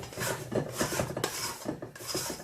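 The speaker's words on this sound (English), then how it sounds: "around the edge and scrape everything down" A spatula scraping bread dough down the sides of a mixing bowl, a series of short rasping strokes in an uneven rhythm, close and fairly quiet.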